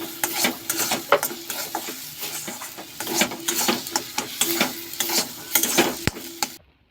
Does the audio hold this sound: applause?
no